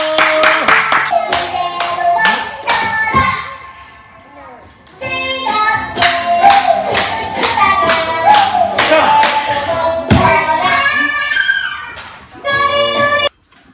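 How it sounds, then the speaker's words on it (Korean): Hands clapping near a baby at home, a bright run of sharp claps with a brief lull midway before more clapping resumes, mixed with a voice and some thumps nearby. "선생님 박수 주세요."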